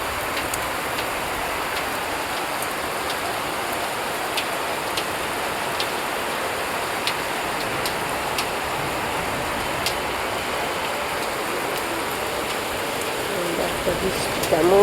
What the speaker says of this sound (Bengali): বৃষ্টি কেমন বৃষ্টি পড়ছে